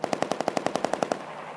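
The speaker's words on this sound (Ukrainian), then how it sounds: "Це звуки вибухів та автоматних черг." A rapid burst of automatic gunfire in wartime Ukraine, about thirteen evenly spaced shots over one second, followed by a fading echoing tail.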